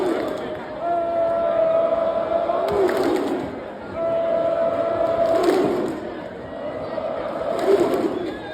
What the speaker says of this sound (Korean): 마치 스포츠 경기장 같은 분위기가 나더니 함성과 함께 머리 위로 손을 들고 박수를 치기 시작해요